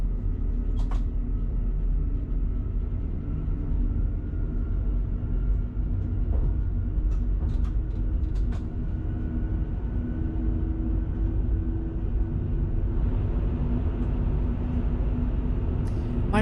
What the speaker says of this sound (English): So this is a commuter train.